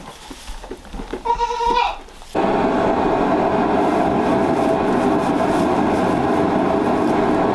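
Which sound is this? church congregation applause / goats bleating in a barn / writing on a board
goats bleating in a barn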